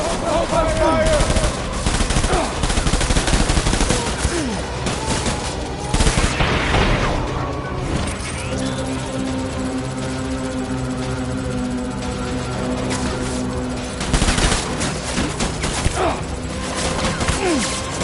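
Video game gunfire in Death Stranding, bursts of rapid automatic shots and loud impacts over a rumbling helicopter-like drone and a tense score, with shouted voices mixed in.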